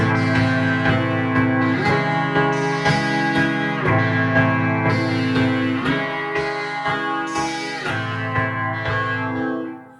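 A Moog synthesizer in poly mode plays several keys at once, producing rich, buzzy chords with a chorus-like, effected tone that shift in rhythmic steps over ten seconds, loud and up close with no talk.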